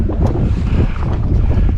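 Strong wind buffets a small fishing boat out on the water in the rain, a steady loud roaring rush with gusty swells and no one talking.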